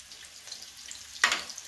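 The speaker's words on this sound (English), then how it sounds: "I use olive oil to fry my vegetable." Vegetables, carrot among them, seasoned with salt and white pepper, frying in olive oil: a quiet, steady sizzle with a louder burst of crackling partway through, heard close and alone.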